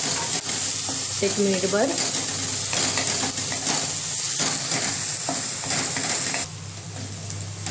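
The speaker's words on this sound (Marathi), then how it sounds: "त्याच्यामध्ये लसणाची पेस्ट घालायची आहे। थोडा वेळ परतायचं आहे" Onion and garlic paste sauté in a pan for palak paneer, a loud steady sizzle with clinks and scrapes of a spoon on metal, a short spoken phrase midway, and the frying dropping in level near the end.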